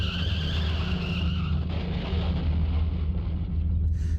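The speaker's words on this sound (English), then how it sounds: "Another car accident, again right outside my door." Car skidding in an accident: a sustained tire screech over a low engine rumble holds for a few seconds before fading, fairly close and unaccompanied by talk.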